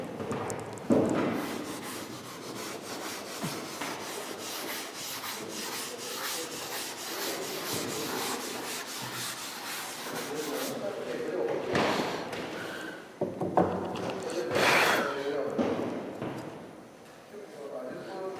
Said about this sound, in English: I will rub this portion.